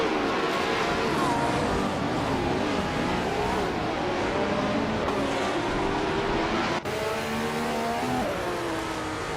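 A 1967 McLaren M5A race car's engine running steadily during a race, a continuous loud droning roar with shifting pitch and no pause.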